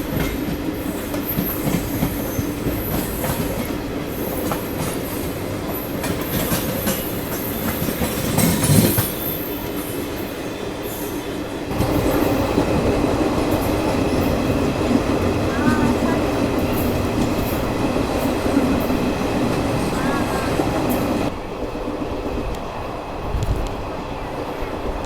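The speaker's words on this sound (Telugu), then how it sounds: "ముంబై ఎల్టీటీ నుండి చెన్నై సెంట్రల్ వెళ్ళే ఎక్స్ప్రెస్ మన కడప రైల్వే స్టేషన్లో మనతోటి మీటప్ అవ్వడం జరిగింది." Mumbai LTT–Chennai Central express train at Kadapa railway station, a steady rumble of passing coaches with clattering wheels and occasional squeals, loud and continuous with a brief surge partway through.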